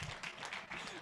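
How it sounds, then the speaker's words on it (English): A brief burst of applause from an audience at an annual OHALAH meeting, honoring departing board members, with dense overlapping claps at moderate volume. "a big round of applause for those who are leaving."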